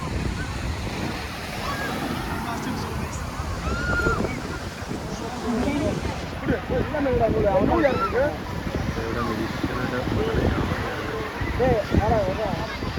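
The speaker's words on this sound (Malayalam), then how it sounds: "ഈ സമയത്ത് നല്ല കാറ്റും കാര്യങ്ങളൊക്കെ ആണല്ലോ കിട്ടണേ" Wind gusts at Vypin beach in the evening, a broad rushing roar blended with breaking surf, with people talking nearby throughout.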